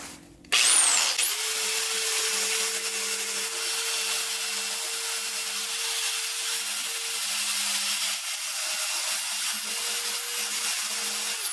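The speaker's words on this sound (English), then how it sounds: "So I'm just going to take my belt sander right here and just reach in and clean the area up" Belt sander running steadily on a Jeep TJ surface before welding, a loud continuous whine with high-pitched tonal hum that starts abruptly and holds for the whole stretch, with no talking.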